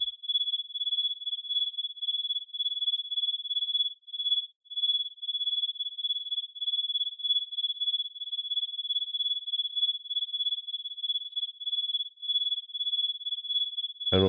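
A steady, high-pitched synthetic cricket chirp, synthesized in VCV Rack, pulses continuously in a fast, even trill, with brief gaps, ending in a short low thump.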